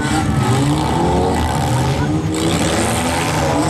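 Mini stock cars race nose to nose and bump fenders in a smash heat, engines roaring steadily and loud throughout under a commentator's voice.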